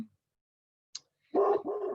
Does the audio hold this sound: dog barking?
yes